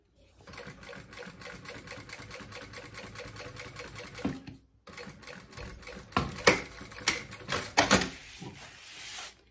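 A sewing machine stitches fabric for a synthetic box pouch, running in a fast steady rhythmic chatter close by, pausing briefly midway, then resuming with uneven louder bursts and clicks toward the end.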